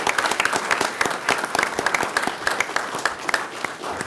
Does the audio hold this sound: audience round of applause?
yes